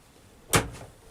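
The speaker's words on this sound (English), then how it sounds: "kitchen cupboard" A single short thud of a kitchen cupboard door closing nearby inside a Sterling Europa caravan, followed by a faint rattle, in a quiet room.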